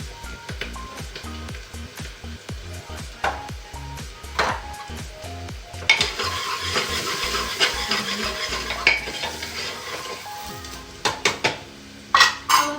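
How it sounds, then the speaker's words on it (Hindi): Onion with turmeric, salt and garam masala fries in a kadai, and a spoon scrapes and clanks against the metal in an irregular rhythm over a sizzle that grows louder partway through. "प्याज को थोड़ी देर पकने देंगे।"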